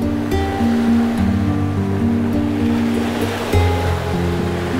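Sea waves wash onto the shore in a continuous, rushing surge with a swell partway through, steady and fairly loud with no talking.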